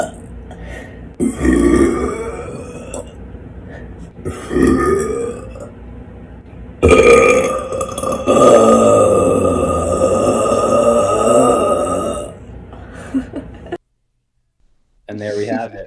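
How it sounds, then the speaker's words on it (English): A woman lets out a series of deep, drawn-out burps on command, several separate belches with pauses between them, the longest rumbling for several seconds, then a brief silence. "Yeah, those are deep burps."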